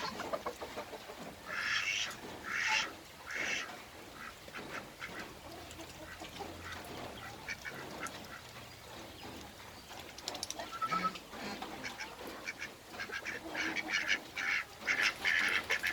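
Ducks quack in repeated bursts at close to moderate distance, mixed with other fowl calls over a busy outdoor background.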